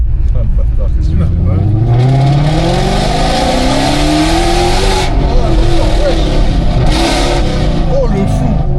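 A sports car engine accelerating hard through the streets of Monaco, the loud revs climbing in pitch through the gears and howling close by, with excited voices shouting over it.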